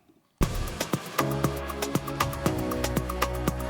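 An instrumental music track with a steady beat, sharp rhythmic hits and sustained tonal layers, starting after a brief moment of near silence.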